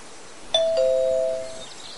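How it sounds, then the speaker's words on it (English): A single two-tone doorbell chime rings out once, clear and close, its tones ringing briefly before fading into a quiet room. "We have a doorbell?"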